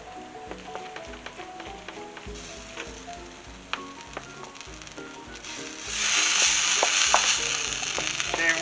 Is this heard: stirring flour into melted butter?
yes